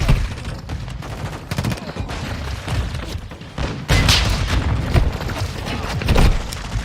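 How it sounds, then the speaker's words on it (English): Cruise missile airstrike in Call of Duty Modern Warfare II: a rolling barrage of heavy booms and crackling blasts that grows louder and denser midway, sustained and close with rumbling low end. "Friendly cruise missile approaching target. Friendly airstrike in the AO."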